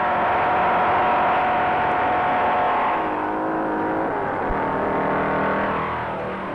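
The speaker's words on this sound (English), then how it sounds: "Owens goes all out, mashing the accelerator to the floorboard, to make up time." A 1957 NASCAR race car on the Daytona beach and road course accelerates hard, its engine roaring loud and close. The pitch climbs, drops at a shift, then climbs again.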